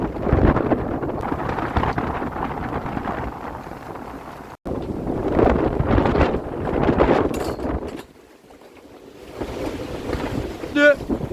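Strong gusty wind from an unexpected storm buffets the microphone in loud roaring bursts at an exposed anchorage, with water sloshing and a boat creaking, briefly easing before surging again.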